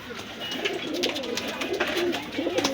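Pigeons coo and flutter softly nearby, a continuous murmur of bird sounds with faint rustling throughout.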